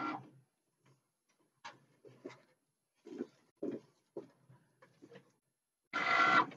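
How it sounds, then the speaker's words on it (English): A Cricut cutting machine runs, giving a quiet series of short, irregular whirring and clicking bursts separated by near-silence, with a louder, longer buzz at the end. "now it's inserted into my cutting machine"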